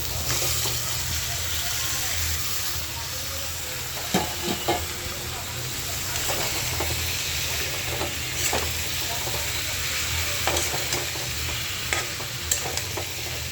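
Fish heads and potatoes fry in spiced oil, a steady sizzle running throughout with scattered crackles and occasional stirring clatters close by.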